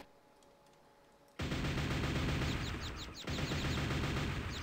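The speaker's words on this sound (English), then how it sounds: "here's the regular nail gun" Rapid-fire nail gun shooting in the Quake template video game, a loud, dense burst of repeated shots after a quiet lead-in, briefly pausing before the stream of fire resumes.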